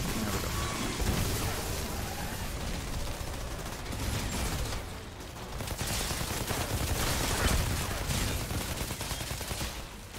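Rapid gunfire in a combat fight in the video game Outriders, dense overlapping bursts and shots that swell and fade over a loud, continuous battle mix with explosions.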